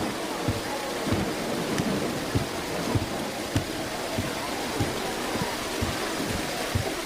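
Steady heavy rainfall hisses throughout, with low rumbling thunder rolling repeatedly beneath it at a fairly even pace, close and moderately loud.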